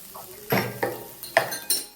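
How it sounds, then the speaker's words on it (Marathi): Vegetables and spices, with butter, chilli powder, coriander powder and Punjabi masala, stir-fried in a kadhai on high flame for veg kadhai; a soft sizzle runs under four sharp spoon-on-pan scrapes and clinks, close and fairly loud. "हे पण एखादा मिनिट छान हाय फ्लेमवर परतूया"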